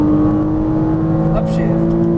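Porsche Cayman S engine pulling hard on a race track, a steady loud drone with a tonal whine held throughout, under a driving instructor's voice.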